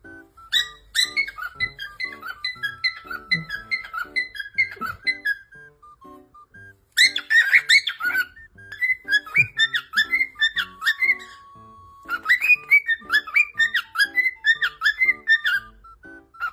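A bird whistles in rapid, repeating bursts that mimic an alarm clock's beeping, with loud chirpy runs broken by short pauses and an occasional steady tone, close and clear with no talk.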